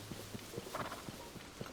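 A horse's hooves clip-clopping in Zelda: Tears of the Kingdom, a quiet, steady walking rhythm of light distinct hoofbeats, faint and close, with no talking.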